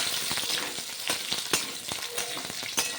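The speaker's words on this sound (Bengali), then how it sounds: "আলুগুলো নাড়াচাড়া করে 1 মিনিট ভাজা ভাজা করে নিচ্ছি।" Potatoes fry in hot oil in a home kitchen while a spatula stirs them, giving steady crackling sizzle up close with repeated scraping clicks from the stirring.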